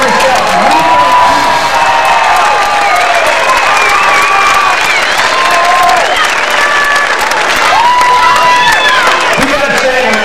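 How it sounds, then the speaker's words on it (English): Loud crowd of families applauding and cheering at a military recruit company's moto run event, sustained clapping with whoops and shouted voices rising over it throughout. "I want you to give yourself a round of applause for your man in putting your young man here today."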